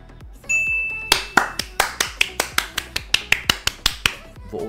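Sharp, regular claps or snaps repeat about fifteen times in a steady rhythm, loud and close, with a faint tone and some background murmur beneath.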